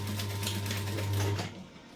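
A sewing machine stitches a backpack strap with a fast, even mechanical whir of needle strokes and a steady motor hum, close up, slowing and stopping near the end.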